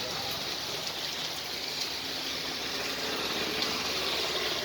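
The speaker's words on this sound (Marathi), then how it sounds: "अशा तऱ्हेने आज मोठा पाऊस आलेला आहे." Heavy rain pours down in a steady, dense hiss that stays at an even level throughout, with no voices, close and continuous.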